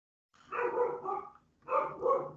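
A pet dog barks indoors, two short, loud barks about a second apart with a brief pause between, each a couple of quick yelps run together, heard alone.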